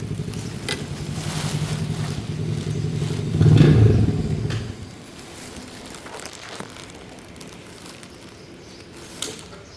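A motorbike is ridden along busy early-morning roads in Vietnam on a rainy day, its engine droning steadily, swelling briefly to a louder rev, then easing off into a quieter hum with road noise.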